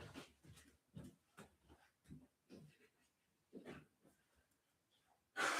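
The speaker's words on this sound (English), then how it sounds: "I'm going to blow my nose" A person blowing their nose at home during a relaxed crafting session, heard as a sequence of soft breathy snorts and sniffs, then a short loud honking blow at the end.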